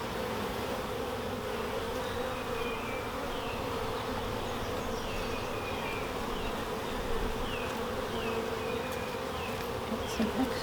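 Honey bees buzzing steadily around a newly established hive, a dense continuous hum of many insects close by, with individual bees flying past now and then, no talking.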